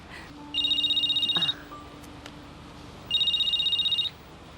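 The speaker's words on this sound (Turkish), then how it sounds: "Ah, arıyor. Ah. Dur birkaç kere çalsın. Telefon elimde beklediğini zannetmesin." A telephone rings in two clear bursts of rapid electronic trilling separated by a short pause, fairly close and prominent over a quiet indoor background, with no talking.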